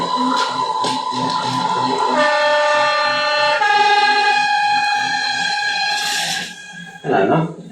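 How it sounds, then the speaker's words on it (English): A train approaching on a railway track with an electric rail rumbles and clatters, then sounds long sustained horn blasts that shift in pitch, loud and near, with a voice briefly heard at the end. "a train was coming down the track."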